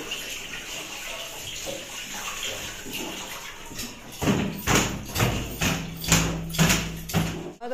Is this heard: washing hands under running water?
yes